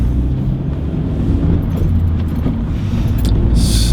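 Car with a manual transmission driving on a road, a steady low engine and road rumble close inside the cabin, with light jangling and a brief higher rush near the end.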